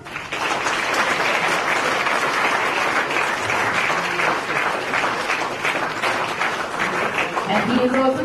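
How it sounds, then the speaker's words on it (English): Audience at a statue unveiling of Dr. Ambedkar at Raj Bhavan bursts into sustained, dense applause that fills the hall evenly for several seconds, with an announcer's voice rising over it near the end. "Great applause."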